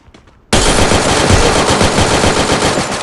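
Loud, continuous automatic gunfire from a video game, a sustained rapid burst that starts abruptly after a brief quiet moment and runs without pause to the end.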